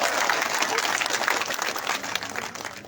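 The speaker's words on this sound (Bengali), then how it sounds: "আপনারা একদম পরে একটা হাততালি দেবেন তাদের জন্য" An audience at a union council meeting claps in a dense, sustained round of applause, close and fairly loud, with a faint murmur of voices mixed in.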